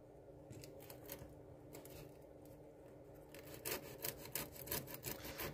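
Wood on a model general store build is scraped and gouged to roughen it, with quiet rhythmic rasping strokes that grow louder and quicker halfway through, close and alone.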